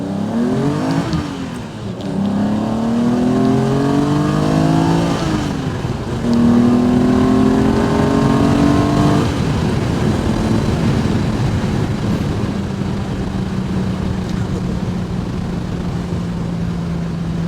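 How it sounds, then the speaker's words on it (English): A TVR Tamora sports car with a 3.6 engine accelerates hard through the gears on an open road, its loud engine note rising in pitch and dropping at each of several upshifts before settling into a steady drone. "We're going to try through the gears here now on a nicer bit of road."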